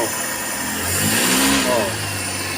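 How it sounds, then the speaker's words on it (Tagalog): Suzuki Every DB52 engine running after a misfire repair, idling with a steady hum that briefly swells as it revs, while people talk over it. "Start na to. Okay na kayo, hindi na palyado."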